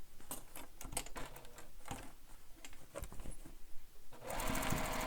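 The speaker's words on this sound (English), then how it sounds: "And I do backstitch in those corners." Close and quiet, a sewing machine backstitches the corners of a fabric bag in short stop-start bursts of rapid needle clatter, ending in a longer continuous run of stitching.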